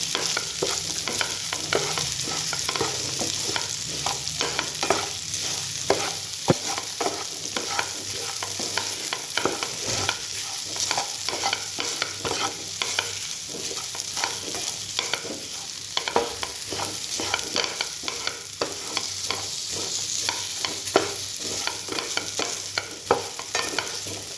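Bhindi (okra) masala fries in a pan and is stirred steadily, with a continuous loud sizzle and repeated scraping strokes of the spoon throughout, and no talking.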